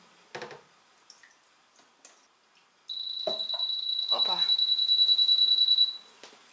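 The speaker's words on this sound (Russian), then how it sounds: "сейчас мы с вами будем пробовать наливать воду" Water pours steadily into a compact Midea MCFD42900BL countertop dishwasher's tank for about three seconds, near and moderately loud, with a high whistling tone over it and a few clicks before.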